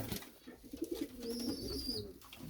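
Pigeons kept for sale coo in low, soft bursts, a close throaty murmur repeating through the moment with faint high background tones above.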